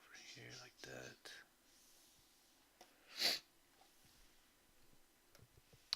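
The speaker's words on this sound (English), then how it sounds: "Sorry for all the sniffles, you guys." A congested person gives a short hissing sniff through a stuffy nose, close and brief, after some quiet murmured speech and soft breathing.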